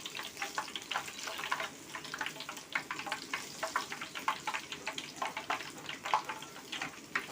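Black soybean and peanut crackers frying in hot oil as oil is spooned over them, a dense crackling sizzle with rapid irregular pops throughout, moderately close and without talk.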